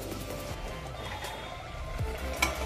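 Duck meat dry-fries in a pan on a gas stove with a steady, close, low sizzle and a few light utensil clinks near the end.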